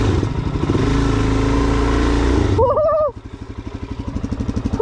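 Suzuki DRZ400SM motorcycle sliding around on loose ground, its single-cylinder engine running loud and close, then dropping to a pulsing idle.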